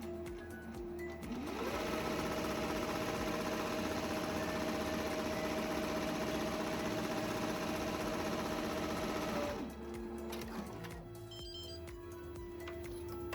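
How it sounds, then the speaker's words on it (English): Embroidery machine stitching the first step of a tissue box design directly onto water-soluble stabilizer: a loud, rapid, steady mechanical whirring hum that starts, runs evenly for several seconds, then stops, leaving quieter machine clicks and room noise. "I'm going to stitch the first step directly onto the stabilizer"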